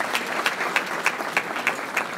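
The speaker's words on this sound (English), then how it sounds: "Once again, a big round of applause," Applause from an audience at a thanksgiving dinner and awards ceremony, a steady clatter of many clapping hands with a few sharper claps standing out, lasting a couple of seconds with no talk over it.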